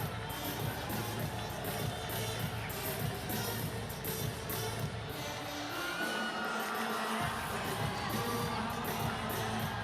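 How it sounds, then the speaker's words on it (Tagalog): A lively Friday crowd fills the Big Dome arena during a PBA Philippine Cup basketball game between Ginebra and ROS, a steady dense roar of cheering and shouting that holds throughout, with a brief dip in the low rumble partway through. "Lively Friday crowd here at the Big Dome."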